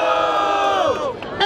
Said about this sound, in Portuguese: Vamos lá! Barulho para cima do WM!